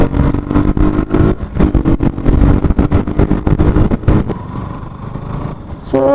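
A KTM RC 200 motorcycle rides past and turns, its single-cylinder engine revving in rapid pulsing bursts up close before easing off into a quieter idle-like hum near the end.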